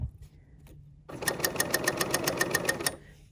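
After a brief near-silent pause, a sewing machine runs a straight stitch for about two seconds, with a loud, rapid, evenly pulsed needle chatter that then stops.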